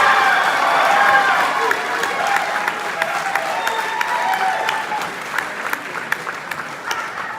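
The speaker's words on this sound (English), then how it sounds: "best applause for the evening goes to Joe and Aldo" An audience at the CIBPA 72nd President Ball applauds co-winners of a Community Leadership Award. Sustained clapping from a large crowd thins toward the end, with voices murmuring underneath.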